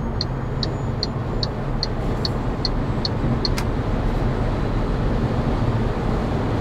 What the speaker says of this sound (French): Là je suis toujours en mode éco et je vais m'insérer sur l'autoroute.